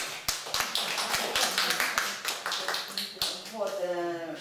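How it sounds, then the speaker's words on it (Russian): An audience applauds at a gathering of writers remembering a Khakas poet, with sharp, fairly regular claps close by and a voice rising at the end. "Аплодисменты."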